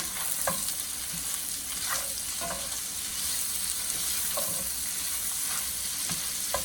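Onions fry in butter, sizzling steadily in a hot pan, with occasional scraping stirs and soft pops breaking through the constant frying hiss.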